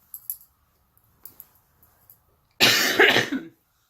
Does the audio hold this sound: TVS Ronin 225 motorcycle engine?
no